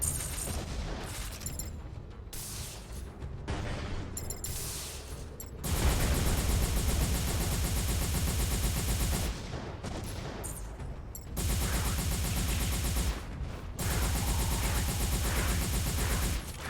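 Dense, sustained beam rifle fire in the mech game M.A.S.S Builder, long loud bursts of rapid, buzzing shots that stop briefly and resume.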